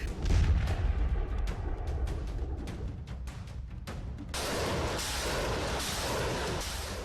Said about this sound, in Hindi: दुश्मन के किले को तोपों के गोलों से ध्वस्त किया जा रहा है।